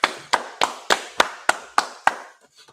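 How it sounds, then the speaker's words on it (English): A congregation claps in unison at a feast's closing service in Kansas City, eight sharp, evenly spaced claps, then a couple of faint taps trailing off. "All right, go ahead, clap it up."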